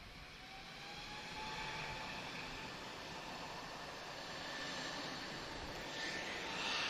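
An airliner taking off at Lisbon Airport, a steady broadband engine roar heard from a distance that holds at a constant level and swells slightly toward the end.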